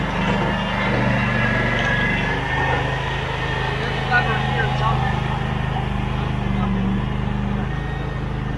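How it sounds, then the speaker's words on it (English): A skid loader's diesel engine runs at a steady low idle during loading work, close and continuous throughout, with a person talking over it. "We use a skid loader to load it."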